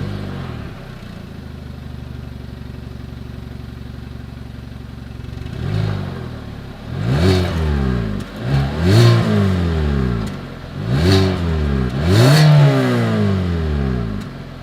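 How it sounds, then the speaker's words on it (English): Exhaust of a 2021 Hyundai Venue revving: a steady idle hum, then several rising and falling throttle blips in quick succession, fairly loud and close, with no talking. "As always, here is that exhaust clip."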